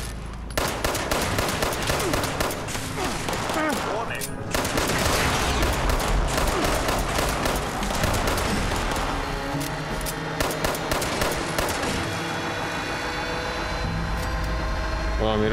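Rapid bursts of gunfire in the video game Fallout 76 crackle almost continuously, sharp repeated shots layered over a low rumble, with voices talking faintly underneath.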